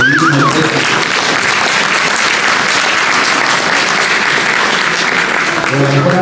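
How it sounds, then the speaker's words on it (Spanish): Sustained audience applause fills a cooperative education panel hall, dense and steady throughout, with a brief whistle near the start and some voices faintly mixed in under the clapping. "vamos a dar un aplauso"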